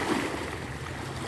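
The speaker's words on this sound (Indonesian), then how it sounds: "Ombak semakin besar" Ocean waves building in size, a low, dense rumble of surf rolling continuously at moderate distance with no voices.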